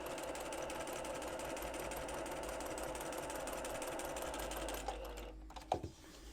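A sewing machine runs steadily while stitching quilt block pieces, a fast, even mechanical whir with rapid needle ticks, ending with a stop and a couple of small clicks and clunks.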